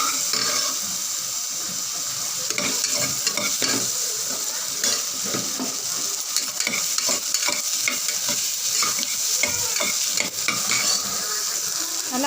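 Cut green chillies sautéing in hot oil for a Madurai-style green chilli mutton gravy, a constant close sizzle with frequent scraping and clinking as a metal spoon stirs the pan.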